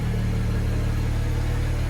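Twin-turbo 2010 BMW 335i E93 convertible with an N54 engine rumbles at a steady idle, its exhaust drone close and continuous for two seconds with no voices.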